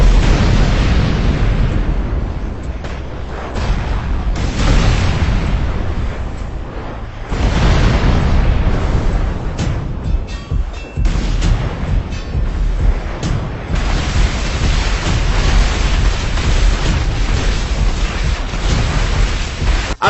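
Explosions in the Free Fire battle royale game roar as loud, sustained booming blasts with rumbling low-end, several heavy bursts rolling one after another across twenty seconds with no talk.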